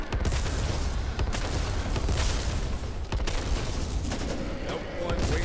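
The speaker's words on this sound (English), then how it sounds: "123 is just spamming grenades." Grenades burst again and again in the zombie shooter Back 4 Blood, a dense run of loud booms and gunfire layered over one another with almost no pause, while players talk over the chaos.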